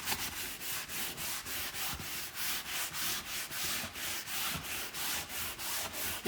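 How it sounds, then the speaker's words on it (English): Lacquer is sanded off a leather surface by hand in steady, rhythmic back-and-forth strokes, about two or three per second. The rasping is close and fairly quiet, with no voices. "And just completely sand over the surface."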